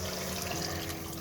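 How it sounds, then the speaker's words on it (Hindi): Water pours steadily into a cooking pot in a home kitchen, a close, continuous splashing rush with no voices over it. "इसके अंदर थोड़ा सा पानी रिक्वायर्ड था तो मैंने इसके अंदर डाल दिया"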